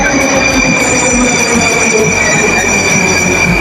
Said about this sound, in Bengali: এক মিনিট পর পর আপনার মেট্রো ট্রেন আসে